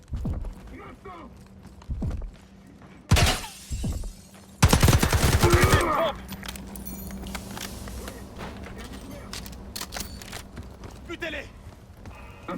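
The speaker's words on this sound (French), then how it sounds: "Attention du tir." Gunfire from the Black Ops 6 campaign, with loud close bursts around the middle and scattered shots and footsteps before and after, under in-game voices.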